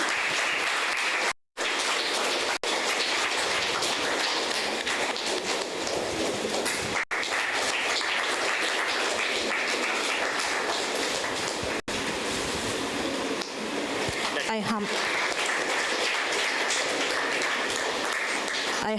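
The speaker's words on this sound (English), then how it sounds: "Give a big round of applause." Sustained audience applause at a college English department seminar, a dense wash of clapping that carries on steadily from start to finish, broken by a few brief dropouts.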